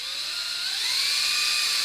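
Power drill boring through metal for an LS 5.3 turbo oil feed and return line, a steady high-pitched whine with a slowly rising tone, close and continuous with no talk.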